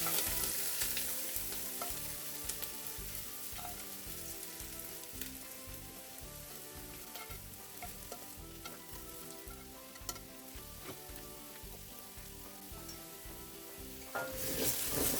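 Basmati rice and masoor lentils fry in a pan for khichuri, making a steady, close sizzle with regular scraping strokes of stirring and no talk.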